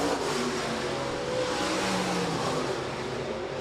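USRA stock cars race around the dirt oval at Rapid Speedway during a heat race, their mid-pitched engines droning loudly and continuously as they roar past, the sound steady with no talk over it.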